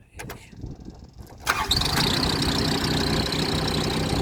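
A Bomag two-ton road roller's engine cranks and catches, quiet clicks and a brief whine giving way to a steady, loud diesel idle that holds to the end.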